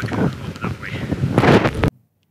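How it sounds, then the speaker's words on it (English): Strong wind buffeting a microphone outdoors near Malham in the Yorkshire Dales, a loud roaring rush that surges and gusts for about two seconds before cutting off abruptly. "As the wind keeps picking up"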